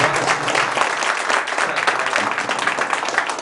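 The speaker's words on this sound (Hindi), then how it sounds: "तो हमारे सर के लिए एक बार जोरदार ताली को" Audience applause at a mobile phone repair training institute farewell, a dense, steady clapping from a hall crowd lasting throughout, fairly loud and close.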